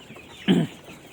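A single short, close cluck from a kampung chicken stands out against faint farmyard background noise.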